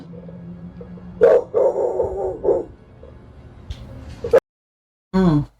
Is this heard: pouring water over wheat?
no